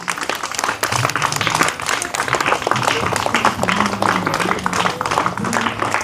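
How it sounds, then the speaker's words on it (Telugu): Loud, dense clapping from an audience at a Republic Day flag-hoisting event, steady throughout with crowd voices mixed in. "గట్టిగా క్లాప్స్"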